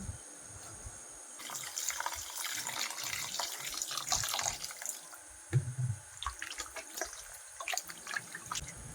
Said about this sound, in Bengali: মাংসগুলো এখন ধুয়ে তুলে নেব ধুয়ে নেব